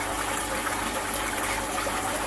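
Water rushing steadily through a koi pond, a continuous close, fairly loud gush that stays even throughout with no voices over it.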